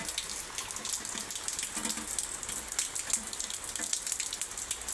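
Steady rain patters down without a break, a dense hiss of drops at an even level with no voices.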